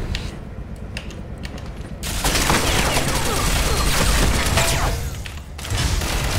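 Sniper gunfire crackles through a Ghost Recon Online firefight, a dense fusillade of sharp, rapid shots and booms that swells after the first couple of seconds and stays loud, with mechanical clanks mixed in.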